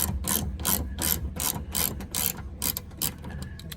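A hand ratchet loosening bolts on the rear bumper of a Toyota 4Runner TRD Pro, rapid clicking bursts in repeated strokes, close and loud with no speech.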